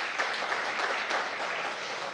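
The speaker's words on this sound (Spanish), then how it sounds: "Un aplauso a ustedes," A short burst of dense clapping and applause rises for command-center workers on a Venezuelan presidential TV program, even and moderately loud throughout.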